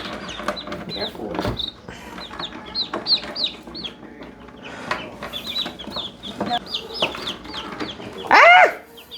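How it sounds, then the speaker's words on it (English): Baby chicks in a brooder make a busy chorus of high peeps and chirps, with people talking and exclaiming over them and a loud burst near the end. "so many little baby birds"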